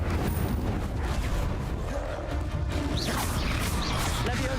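An Incendio fire spell is cast in Hogwarts Legacy, giving a loud burst of crackling, roaring game effects with crashing impacts and swishing magical whooshes over continuous noisy combat sound.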